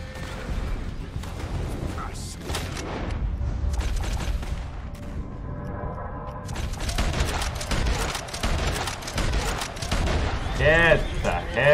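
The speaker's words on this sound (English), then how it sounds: "we're getting shot at" Gunfire in Red Dead Redemption 2 gameplay: scattered shots and bursts crackle through loud game noise and music, dense and continuous across the whole stretch, with a player's voice in places.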